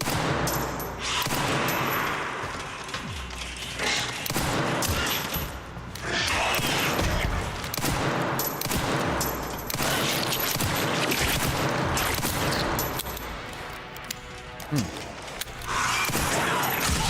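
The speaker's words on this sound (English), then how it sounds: "I still want to kill this one with bullets." Dense video game gunfire, sustained rapid bursts of shots that continue almost without a break, loud and close.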